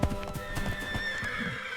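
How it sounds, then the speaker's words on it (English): A horse gives a loud, close neigh with a wavering whinny that carries through the whole short burst, and hoof clip-clops sound faintly underneath. "This is a horse."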